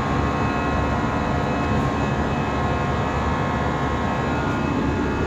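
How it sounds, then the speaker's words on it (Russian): A steady, loud broadband roar fills a passenger airplane cabin during takeoff and climb, unchanging engine and air noise with no talking. "Ну, потому что надо скорость набрать самолетику."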